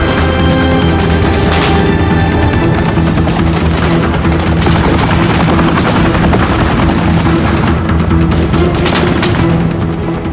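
Loud, steady Black Hawk helicopter rotor roar fills the whole stretch, close and continuous, with a few sharp bangs like distant gunfire mixed in.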